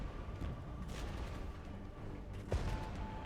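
Artillery shells firing in the Regiments war game: a few quiet dull booms and sharp reports, the loudest near the end, over a low rumbling battlefield background.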